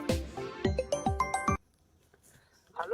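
A phone rings with a short run of bright, repeated melodic tones, loud and close, then cuts off, followed by a brief quiet gap and a voice.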